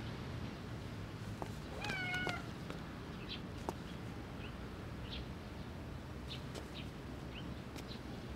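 A kitten meows a few times, short high cries clustered near the start and scattered faint calls later, heard at moderate distance over a quiet background hiss with occasional small chirps.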